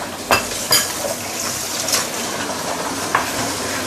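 Three eggs stirred in hot oil in a pan over medium-low heat, with a steady sizzle and a few sharp scrapes of a utensil against the pan.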